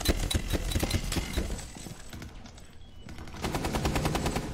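Rapid bursts of automatic gunfire in a Rainbow Six Siege match, clusters of sharp shots at the start, a brief lull, then another dense volley, heard alone without talking.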